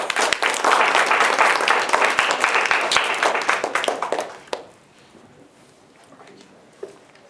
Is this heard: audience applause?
yes